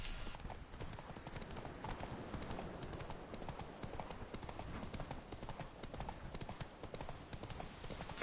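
Roach, Geralt's horse in The Witcher 3, gallops steadily, its hooves clopping in a fast, even rhythm with faint game ambience underneath.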